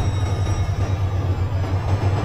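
A white train crosses a high bridge, a steady loud rumble of wheels and track with a deep low hum throughout, continuous and close, with no voices.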